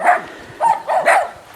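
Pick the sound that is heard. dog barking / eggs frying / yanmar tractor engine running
dog barking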